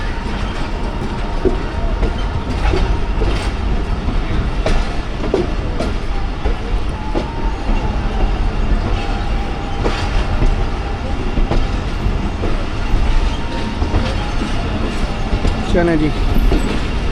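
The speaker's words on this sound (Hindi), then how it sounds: "दरियाए झेलम से ट्रेन हमारी पास हो रही है।" The Awam Express passenger train rolls loudly and continuously over the tracks crossing the Jhelum River, with a dense rumble and rhythmic wheel clatter throughout; someone speaks briefly over it.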